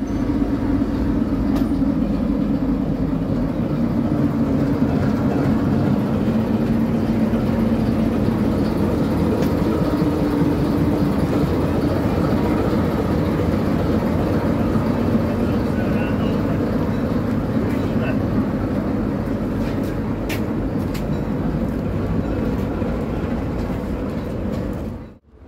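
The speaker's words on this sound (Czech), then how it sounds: "chtěli bychom třeba ještě zkusit natočit nějakých tady z těch mimořádných vláčků" Special trains running at a railway enthusiasts' gathering in Lužná u Rakovníka, heard as a steady, continuous low rumble and rolling noise that holds for the whole stretch before cutting off abruptly at the end.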